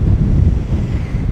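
Wind buffets a microphone outdoors in a steady, loud low rumble that holds without a break and has no voices over it.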